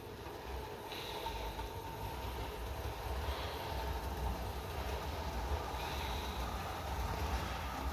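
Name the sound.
model train running on track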